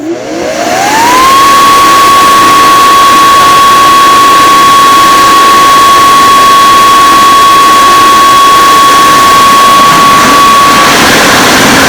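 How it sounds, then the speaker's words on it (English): A small fan motor inflating a pool floaty spins up within the first second to a loud, steady high whine, then holds at full speed for about ten seconds before cutting off near the end. "we're gonna go ahead and blow up this extra floaty to put in the top of the pool. And I've got a little fan motor to do that here."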